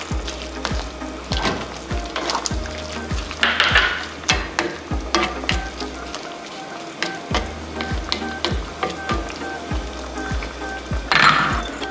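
A pan of picadillo with raisins sizzles hard while a spoon stirs it, scraping the pan in a regular rhythm of sharp strokes over a continuous fry, close up and with no talking.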